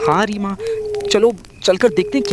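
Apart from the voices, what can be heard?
No everyday noise stands out behind the speech.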